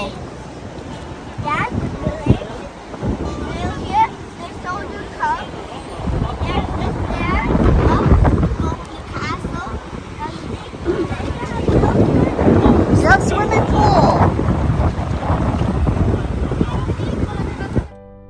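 Strong wind batters a beach at Cayo Santa Maria, buffeting the microphone in rough gusts that rise and fall, with surf behind it and someone speaking over parts of it.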